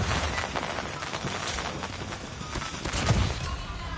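Rapid SMG gunfire in a ranked shooter match, a continuous close stream of shots with small impact bursts, moderately loud and without speech.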